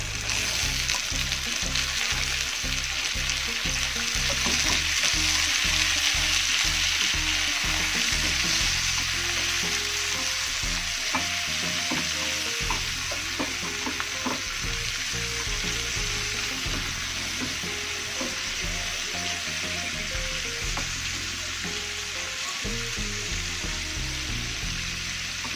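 Green and red chilies and tomatoes sizzle and crackle in a hot pan, a loud, steady frying hiss with rhythmic scraping of a spatula stirring throughout, and no voices.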